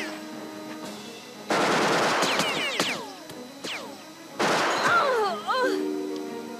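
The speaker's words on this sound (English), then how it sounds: "Getting shot at a whole lot, but still." Gunfire in the tactical game Jagged Alliance 2 Wildfire: two bursts of rapid automatic fire, each about a second long and followed by ricochet-like whines, fairly close and loud over a quiet background.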